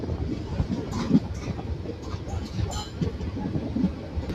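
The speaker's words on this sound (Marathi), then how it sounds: "आता हातकणंगले रेल्वे स्टेशनवरून गाडी डिपार्चर झालेली आहे" Koyna Express pulling out of Hatkanangale railway station, a low steady rumble of rolling carriages with faint wheel clatter, heard from on board.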